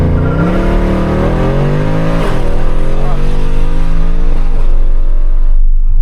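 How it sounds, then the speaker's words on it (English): A Mercedes-Benz C63 AMG (W204) with a 460 hp engine sits on launch control, its V8 held at a loud, steady, rising rev. The engine roars close up with a constant drone and slight pitch swells throughout. "that launch control sound is just savage"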